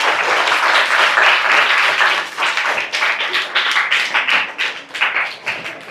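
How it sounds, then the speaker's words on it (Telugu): A school classroom of seventh-grade students claps for a classmate, a loud burst of dense applause that thins into scattered separate claps toward the end. "ఒకసారి క్లాప్స్ కొట్టండి."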